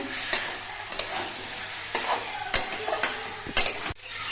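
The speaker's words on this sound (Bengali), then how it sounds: "ঠোঁটটা আরেকবার নেড়ে চেড়ে দিচ্ছি" Banana stem curry stirred in a pan, with sharp scraping strokes roughly every half second to second over a soft sizzle, close up and with no talking.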